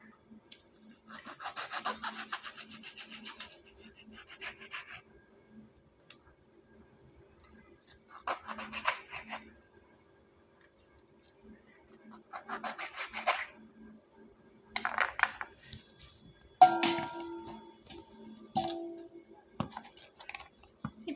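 A knife cuts lemons into eight pieces for pickle, making rasping, sawing strokes in separate bursts of about two seconds each, with quiet pauses between them. The sound is close and fairly soft.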